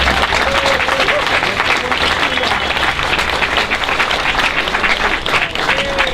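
A crowd at an outdoor rally over a police shooting claps and cheers continuously, a loud unbroken roar of many hands with scattered voices mixed in.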